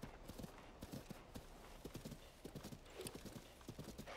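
A horse gallops in the video game Zelda: Tears of the Kingdom, rapid rhythmic hoofbeats thudding steadily and fairly close, with faint game ambience around them.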